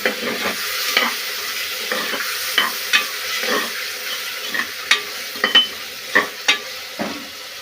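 Tomatoes being sautéed in a pan, a soft sizzle broken by repeated scraping stirs of a spatula at an uneven rhythm, close by.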